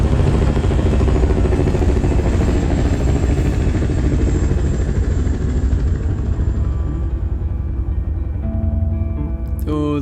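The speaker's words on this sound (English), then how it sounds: "Armada of helicopters" A loud, steady roar of an armada of helicopter engines and rotors in the film Civil War (2024), dense and continuous, with a brief sharp burst near the end.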